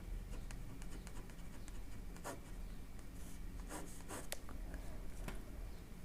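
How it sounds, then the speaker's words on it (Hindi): Pen writing on a notebook page during a Hindi chemistry lesson, a steady faint scratching with short strokes and a few sharper scrapes, close and quiet, with no talk over it. "देखिए इधर नीचे वाले पेज पे लिख देता हूं"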